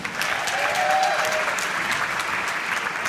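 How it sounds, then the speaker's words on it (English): An audience applauds a school jazz ensemble at an arts center performance, steady sustained clapping from a crowd at moderate loudness, with a faint voice briefly over it. "Give me a round of applause."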